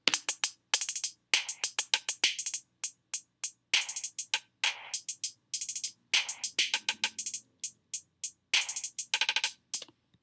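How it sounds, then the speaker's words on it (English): Hi-hats in a trap-style beat, doubled in two layers, tick in rapid, tightly spaced bursts and rolls with short gaps between phrases, bright and isolated with no other parts audible. "I double layered the hats to get a little extra bounce"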